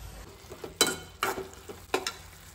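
Mixed vegetables of cauliflower, eggplant, potato, onion and tomato frying in a pan. A spatula scrapes and stirs in a few distinct strokes over a soft continuous sizzle, close and fairly quiet.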